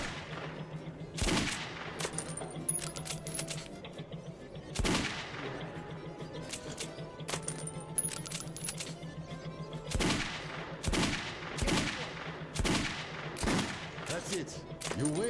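Metro 2033 Redux gunfire: sharp, loud single shots and short bursts spaced irregularly, with a steady low drone and game effects between them.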